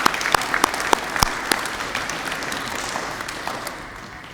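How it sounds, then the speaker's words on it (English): Audience applause at a senior school awards ceremony for Year 10 Participation Award winners, a burst of sharp, distinct claps at first that thins and fades over about four seconds. "Please join me in a round of applause to congratulate our Participation Award winners"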